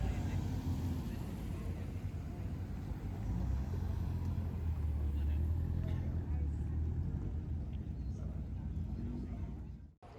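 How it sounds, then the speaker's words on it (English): A classic Alfa Romeo SV drives into an outdoor car show, its low engine rumble steady and fairly close for most of the stretch, swelling slightly in the middle, amid crowd noise before cutting off abruptly. "Oh wow, an Alfa SV entering the show."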